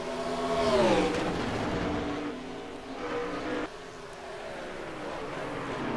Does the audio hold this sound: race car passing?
yes